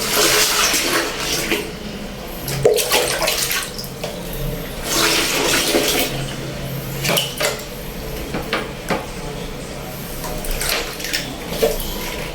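Rushing water flows steadily as a toilet flushes and the tank refills, with gurgling surges and a few light knocks, close by and no talking.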